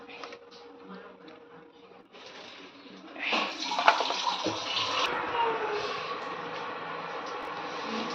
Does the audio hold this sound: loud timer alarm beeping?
no